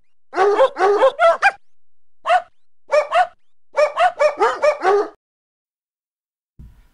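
Cartoon puppies bark in quick, high yapping bursts: a rapid run of yips, then scattered single barks and another busy cluster, loud and close with no talking, ending in a short low thump.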